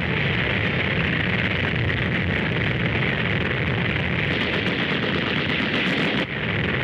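Army war games of 1941, newsreel-style battle sound with dense, continuous gunfire and artillery bursts, loud and harsh, a noisy wall of rapid reports with no talk.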